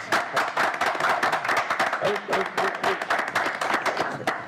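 Steady applause from a crowd, dense clapping sustained throughout with a voice briefly audible underneath.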